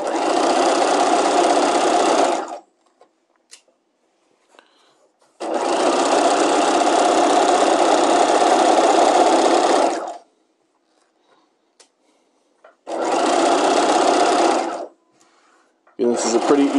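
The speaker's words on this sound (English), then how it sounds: "And you'll use your regular construction stitch. And here we go. Remember not to sew over your pins." A sewing machine stitches a skirt seam in three loud, steady bursts of rapid whirring, each a few seconds long, separated by silent pauses, with a fourth burst starting at the end.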